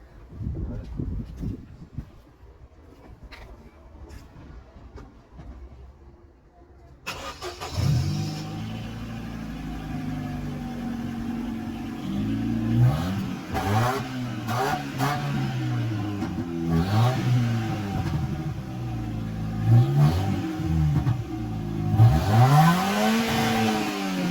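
A car engine starts up and revs repeatedly through a loud, popping, cable-tied aftermarket exhaust, each rise and fall in pitch clearly audible, close by and growing stronger.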